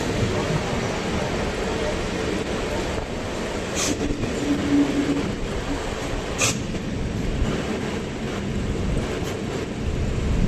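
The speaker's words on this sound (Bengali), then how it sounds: "আর সেই সাথে আমাদের ট্রেন প্রবেশ করা গেছে সোনারপুর জাংশনে।" A Sealdah–Diamond Harbour galloping local train rolls into Sonarpur Junction, a steady loud rumble of carriages on rails with a couple of brief sharp clanks.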